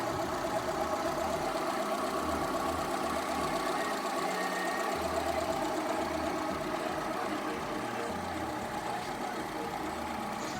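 A Maruti Suzuki Zen VX car engine idles steadily and smoothly, a continuous even mechanical hum with a faint rhythmic ticking, recorded close and without talk.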